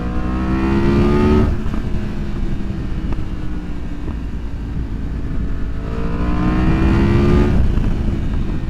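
A 2023 Yamaha MT-10 motorcycle with a Leo Vince exhaust accelerates hard through the gears, its loud rising engine note climbing twice with a brief drop at a shift in between, heard up close.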